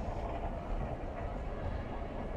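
A Chinese-built metro train runs on the Buenos Aires Subte, making a steady low rumble and rolling roar that stays even and fairly quiet throughout.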